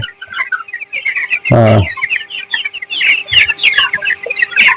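Broiler chickens clucking and chattering nearby on a hot afternoon, with one loud burst of squawking early on, over a faint steady hum.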